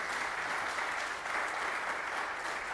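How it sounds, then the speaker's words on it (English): Steady applause from an audience at a business conference session in an echoey room with no soft furnishings, an even continuous wash of clapping without pauses, moderately loud and reverberant. "If you could give them a round of applause"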